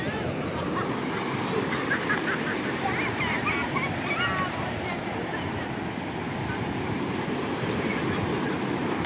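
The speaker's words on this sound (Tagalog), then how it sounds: "Laki ng alon." Big ocean waves roll in with a continuous loud roar of surf and wind, constant throughout with faint scattered voices in the background.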